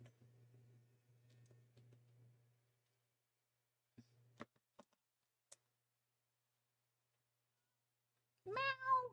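A pet cat meows faintly from somewhere off by the stairs, a short call near the end after a low steady hum and a few scattered clicks.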